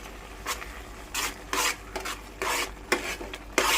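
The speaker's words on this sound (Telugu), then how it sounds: "ఇలా అన్నీ యాడ్ చేసుకున్న తర్వాత మంచిగా కలుపుకోవాలి." Mango murabba being stirred in a pan after adding roasted cumin powder, heard as a series of close, scraping spoon strokes in an uneven rhythm, alone without talk.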